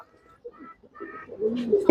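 Pigeon cooing inside a loft housing two male pigeons, one with reddish feather spots on its head. The soft, low coos come in a few short bursts and grow louder and closer toward the end, with no speech.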